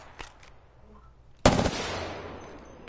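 Incoming gunfire in Apex Legends: a sudden loud burst of shots cracks in after near-silence and then rings out in a decaying echo.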